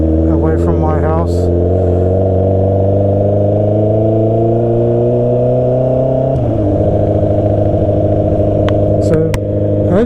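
A cold Honda CB650R motorcycle engine idles loud and steady with a strong low drone, its pitch rising slowly then dropping to a lower idle partway through, heard up close with no talking.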